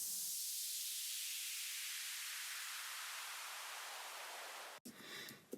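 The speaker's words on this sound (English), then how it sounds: "So the downlift, I think, is just white noise." White noise downlifter effect: a loud, clean wash of hiss that starts bright and gradually sweeps downward over about five seconds, then cuts off abruptly into a brief, fainter tail.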